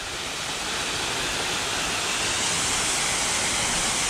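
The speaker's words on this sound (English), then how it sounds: "There's that waterfall, and the closer I get to it, the more magnificent it looks." A coastal waterfall near Clovelly in full spate after heavy rain, a loud, steady, broadband roar heard close up, constant and unbroken with no other sounds.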